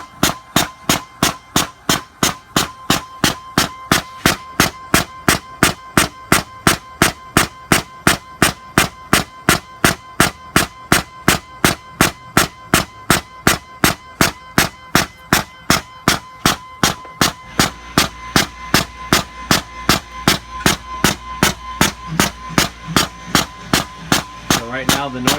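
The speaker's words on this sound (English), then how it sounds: "Pump sounds good." A Power Tank CO2 pump fills a tank with loud, rhythmic mechanical strokes, about two per second. The pulses run steadily for the whole stretch, with a faint hum underneath later on.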